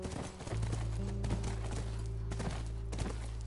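Horse hooves clip-clop in The Last of Us game near a ranch, a steady close rhythm of hoofbeats over a constant low ambient drone, with no talking.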